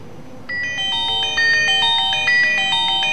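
An outgoing call rings on a smartwatch as a short electronic melodic tone, repeating a few bright notes in a clear pattern, close and alone with no talk.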